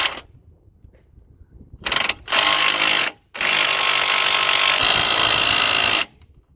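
A power ratchet drives a number 17 socket on a Mitsubishi steering rack, loud close buzzing bursts, a short one then two long runs separated by brief pauses.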